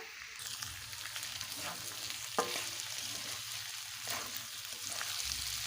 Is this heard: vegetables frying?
yes